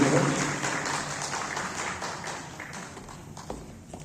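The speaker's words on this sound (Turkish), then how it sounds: "Bu genç ve güzel yüzümüzü de yürekten alkışlıyoruz" An audience applauds a young singer at a Turkish classical music choir concert, a steady wash of many hands clapping that starts strong and slowly thins toward the end, with faint voices underneath.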